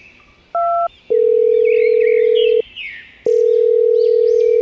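A telephone being dialed: a short two-tone keypad beep, then two long, steady, loud electronic tones separated by a brief gap, heard alone with no voices.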